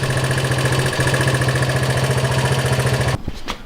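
Honda CB125 motorcycle engine with a hard-starting spark problem, running steadily with a loud, even rapid thumping for about three seconds before cutting out abruptly, followed by faint rattles.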